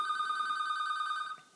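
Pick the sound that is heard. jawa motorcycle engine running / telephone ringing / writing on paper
telephone ringing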